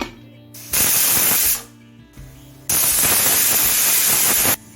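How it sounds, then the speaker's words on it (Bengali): A pressure cooker on a gas stove vents steam in two loud, close, forceful hissing bursts, the first about a second long and the second nearly two seconds, separated by a quieter gap. "দুটো হুইসেল দেওয়ার পর এবার গ্যাস বন্ধ করে স্টিম রিলিজ হওয়া পর্যন্ত অপেক্ষা করব"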